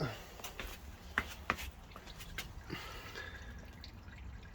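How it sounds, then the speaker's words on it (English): Old engine oil draining from a BMW 5 Series during an oil change, heard as soft, irregular dripping and trickling with a few sharper drops against quiet workshop background noise. "So whatever's in there is now draining out."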